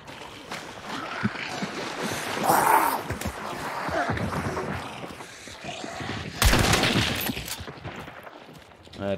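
Gunfire in the multiplayer shooter Hunt: Showdown, with bursts of shots amid game ambience, the loudest cracks near the middle and later in the stretch, and a bit of mixed talk.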